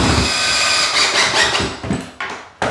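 A power drill drives screws into a replacement subfloor during a rotted floor repair, whirring loudly and steadily up close before stopping in short abrupt bursts as the screws seat.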